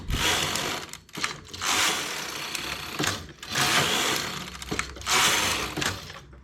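A knitting machine carriage is pushed back and forth across the needle bed for six rows of a bobble stitch made with a transfer tool, giving repeated loud mechanical whooshing sweeps with clattering, alternating with short pauses.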